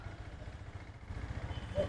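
A used Yamaha R15 motorcycle engine, a 2020 Monster model, idles with a steady low throbbing putter, close by and moderately loud, with faint background noise around it.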